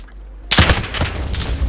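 A burst of gunfire from Modern Warfare's Search and Rescue mode erupts suddenly after a quiet moment: one loud close shot followed by several rapid reports that ring out and fade, with no speech.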